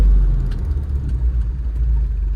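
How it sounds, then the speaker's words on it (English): A 2021 Ford Bronco with upgraded rear brake pads and rotors slows from 30 mph, heard from inside as a loud, steady low road rumble and engine drone with no voices. "Going up to 30 miles, and then brake."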